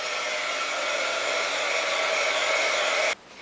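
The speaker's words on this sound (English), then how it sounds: "I'm going to dry this using my blower." Steady hair-dryer-style blower drying deColourant Clear Mixer paint on fabric, a continuous close whoosh held for about three seconds before cutting off abruptly.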